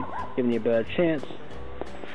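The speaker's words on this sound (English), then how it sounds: "And that's my dog. He found a squirrel." A dog barks excitedly at a squirrel outdoors, several sharp yips and barks in quick bursts, partly under a man's speech.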